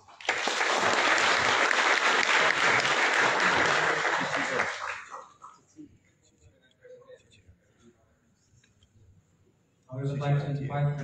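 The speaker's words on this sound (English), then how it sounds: "please let's give a big round of applause." Audience applause at an official event, dense and loud clapping for about five seconds before fading out, with a voice starting up near the end.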